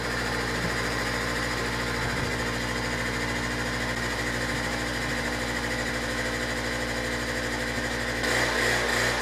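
A vacuum pump pulls down a chamber holding a shell-less egg, producing a steady, loud mechanical hum and rattle that runs continuously, growing a little harsher near the end.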